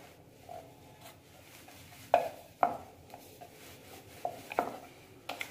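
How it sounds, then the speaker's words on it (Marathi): Karanji dough rolled out with a rolling pin on a board, giving a few soft, scattered knocks and thuds over a quiet background. "लाटून घेते मी आता."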